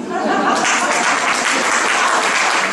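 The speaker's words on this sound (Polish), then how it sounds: "Wielkie brawa." Audience applause following a saxophone recital piece with piano accompaniment at a school music performance, a steady dense wash of clapping sustained throughout with a few scattered voices in the crowd.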